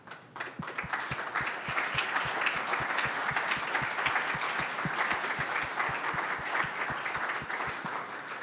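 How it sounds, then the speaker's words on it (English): An audience at a demo day gives a round of applause to summer program educators, sustained dense clapping from a crowd filling the room, with one sharp, regular clap close by beating through it. "would you mind standing so we can give you a round of applause?"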